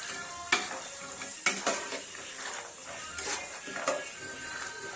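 Peanuts fry in hot oil while being stirred, giving a steady crackling sizzle with sharp scraping strokes of a utensil against the pan at irregular intervals, close and fairly quiet, with no talking.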